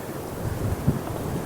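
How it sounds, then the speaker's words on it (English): Gusty wind roars in a steady low rumble against an outdoor microphone on a walk, with a brief louder buffet in the middle and no voices. "It's very windy today."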